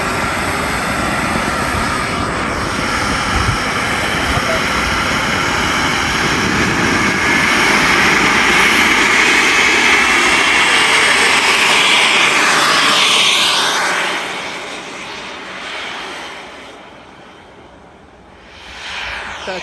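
Freewing F-22 Raptor RC jet with a KingTech K45-G4+ turbine on takeoff, a loud sustained roaring whine that swells as it passes, then fades into the distance.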